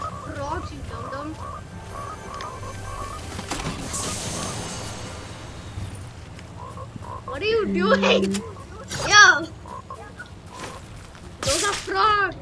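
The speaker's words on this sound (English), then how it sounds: "Those are frogs!" Frogs in a shooter video game croak in rapid repeated bursts, fairly close and clear, mixed with a player's short spoken remarks and game noise.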